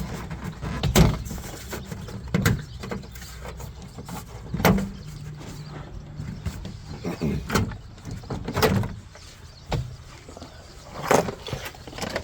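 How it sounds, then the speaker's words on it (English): Door panel being pried and pulled off a Toyota AE86, with a series of sharp clicks and thumps from clips and plastic spaced a second or two apart over low rustling, close and moderately loud. "got the door panel off"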